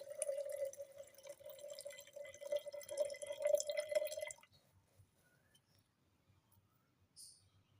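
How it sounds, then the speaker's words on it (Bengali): Water is poured steadily into a jar for about four seconds, a continuous close trickle that stops abruptly, followed by near silence and a faint brief knock. "আমি জারের মধ্যে জল ঢেলে দিচ্ছি"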